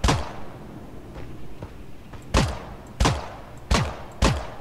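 Shots ring out in the battle royale game Creative Destruction, four or five loud, evenly spaced gunshots with heavy booming decay after a quieter stretch of faint distant pops, no voices over them.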